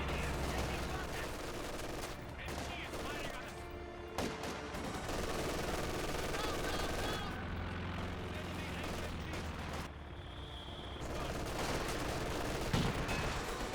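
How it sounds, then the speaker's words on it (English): MG42 machine gun fire in Company of Heroes 2, dense bursts of rapid gunfire mixed with explosions and battle noise, continuous and loud under a speaking voice. "MG42 suppressing the comm engineers."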